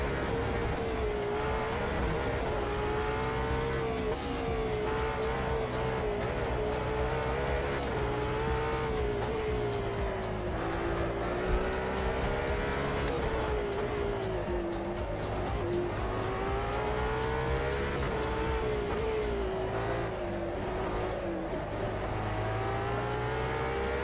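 A race car lapping the Nordschleife in a racing video game, its engine droning loud and continuous with rising and falling revs through the corners and occasional tire squeal, with no speech over it.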